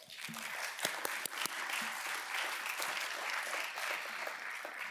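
An audience at a Bellwether League Foundation gathering at Marquette University breaks into a steady round of applause, a dense, even patter of many hands that holds for several seconds at a fairly soft, slightly distant level.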